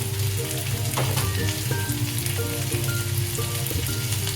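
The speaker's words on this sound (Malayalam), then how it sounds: "ഉള്ളി ഒന്ന് വഴറ്റി വരുമ്പോൾ അതിലേക്ക് ടൊമാറ്റോ സ്ലൈസ് ചെയ്തത്" Chopped onion with sliced tomato sautéing in a pan for paneer butter masala, giving a steady, close sizzle and crackle that runs throughout with a few faint clinks of stirring.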